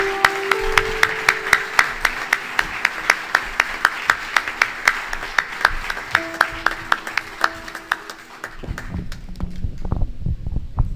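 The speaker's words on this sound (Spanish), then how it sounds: "merece un aplauso más fuerte" A church congregation claps in a strong, steady unison rhythm, loud and close, with a few voices calling out beneath the beat before the clapping breaks into scattered, looser applause near the end.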